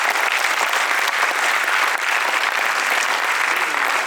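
Sustained audience applause fills a lecture hall during an orientation camp speech, dense and steady clapping from a large crowd throughout, with no pause or talk over it.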